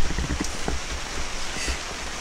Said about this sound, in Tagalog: Ay, umuulan na naman guys.